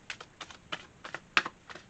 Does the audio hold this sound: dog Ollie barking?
no